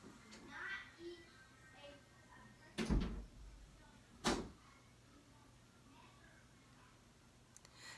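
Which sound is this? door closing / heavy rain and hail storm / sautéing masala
door closing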